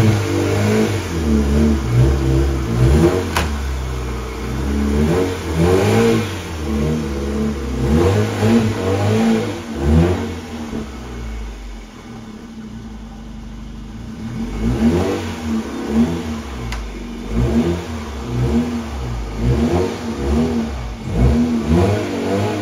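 A car pulls out nearby in winter, its engine revving in repeated rising bursts with quieter idling stretches between, loud and continuous throughout.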